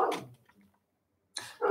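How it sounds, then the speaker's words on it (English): A dog barks loudly at close range, one burst at the start and another near the end, with a quiet gap between them and no talk over it. "to Coda for barking when I try to talk."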